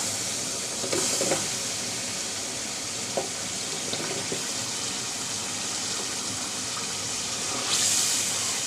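Taro corms stir-fried in a thick spice paste for a village-style curry make a continuous close sizzle, with a few scraping stirs and brief watery splashes near the start and end. No one speaks.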